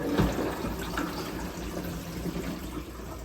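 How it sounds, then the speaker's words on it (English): Water poured by hand into a newly installed kitchen sink drain with a garbage disposal, a close, continuous splashing and gurgling rush that slowly eases, with no talking. "We've got no running water right now, so I'm going to dump some water in here, and please don't leak."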